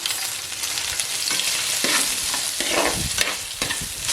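Onions sautéing in oil in a pan for brinjal kuzhambu, a steady close sizzle broken by repeated scraping stirs, with no voices.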